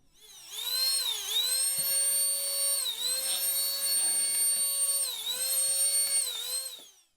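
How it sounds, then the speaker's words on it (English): The small motor of an X3 Hurricane canless air duster whirs at a high, whining pitch, holding steady with slight dips as it speeds and slows, close and loud for several seconds. "being this is a motor that goes over 260 miles an hour, it's going to make noise"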